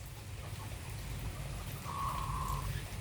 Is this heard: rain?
yes